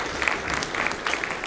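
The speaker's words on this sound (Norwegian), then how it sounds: "Gi en applaus, ja" A short burst of applause from a gathered crowd at a church gathering, dense and even with slight swells, fairly close.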